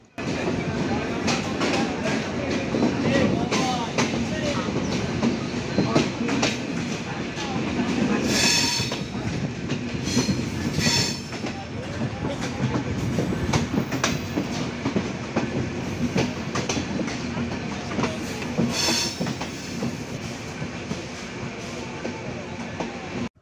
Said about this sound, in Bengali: চিত্রা এক্সপ্রেস ট্রেন তার 3 মিনিটের যাত্রা বিরতি শেষ করে পোড়াদহ জংশন রেল স্টেশন ছেড়ে গেল